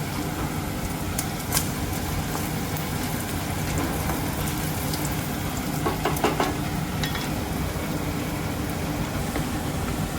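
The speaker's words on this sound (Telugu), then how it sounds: "మాడిపోకుండా వేయించుకోవాలమ్మా" Poha chivda ingredients fry in hot oil with a dense, continuous sizzle and crackle at a steady loudness, and scattered stirring scrapes come through over it.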